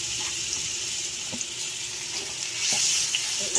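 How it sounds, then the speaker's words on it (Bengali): Grated garlic fries in hot oil for a chicken momo sauce, making a continuous hissing sizzle with faint stirring clicks that swells slightly near the end. No speech. "রসুনটা হালকা আমি ভেজে ভেজে নেব"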